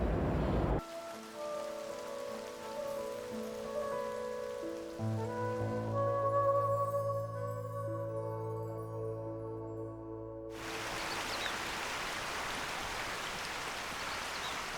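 Rain beats down on a mountain river as a steady, close hiss, with sustained tonal layers running over much of it before the downpour swells brighter and fuller near the end.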